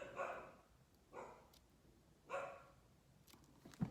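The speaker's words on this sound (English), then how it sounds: "Pardon the barking dogs." Three barks from a dog, distant and muffled through open windows, spaced about a second apart against a quiet room.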